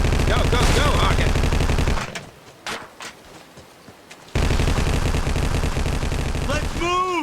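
Sustained automatic gunfire from covering fire in the Vietnam War video game Vietcong, loud and close, a rapid rattling burst that drops out briefly to scattered single shots before resuming at full intensity.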